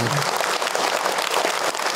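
An audience at an Islamic religious lecture claps together in a dense, continuous burst of applause, fairly loud and sustained for a couple of seconds.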